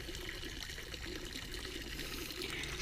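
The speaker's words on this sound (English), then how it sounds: "have it trickle. It's a touchy little irrigation valve." Water trickles steadily from a touchy little irrigation valve outdoors, a continuous soft, even hiss and dribble at low level with no voices.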